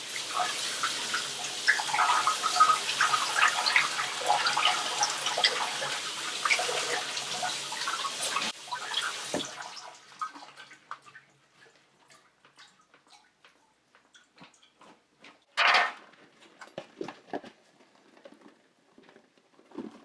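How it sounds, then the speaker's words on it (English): Blueberries are rinsed with water in a container. Splashing, pattering water runs for about nine seconds, then stops, leaving quiet with scattered small rattles and drips. "First I'm going to just rinse these in the container."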